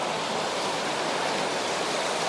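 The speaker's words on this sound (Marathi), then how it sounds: "पाण्याचा आवाज बघू शकता तुम्ही कसा येतोय" Water rushes steadily through roadside culverts partly dammed by trapped debris in rural Konkan, making a loud, unbroken hiss and roar that stays constant throughout.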